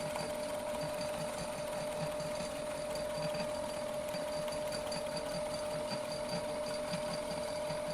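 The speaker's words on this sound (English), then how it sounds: "Milling the front of it flat" Milling machine cutting the front face of a steel pry bar flat, a steady continuous mechanical whir with a rhythmic chatter and a sustained tonal hum, close and even throughout with no talk.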